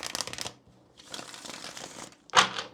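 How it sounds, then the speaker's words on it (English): A deck of tarot cards being shuffled up close in two bursts of quick riffling flutter, separated by a short pause, ending with a sharper snap of cards. "We'll go ahead and shuffle the deck here"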